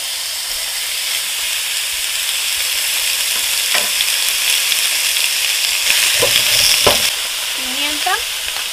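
Beef frying in a pan coated with a light spray of oil, a steady close sizzle and hiss running throughout, with a few brief clinks and scrapes near the end.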